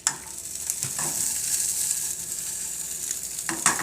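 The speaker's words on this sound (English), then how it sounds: "once your oil is hot, you're just going to place your sausages." Vegan sausages laid into hot oil for a vegan chipotle breakfast muffin sizzle in a continuous close hiss, with a few soft taps and clicks as each piece is placed, no voices.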